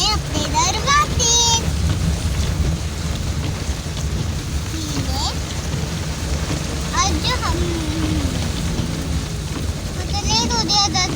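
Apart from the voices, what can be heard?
heavy rain falling in Islamabad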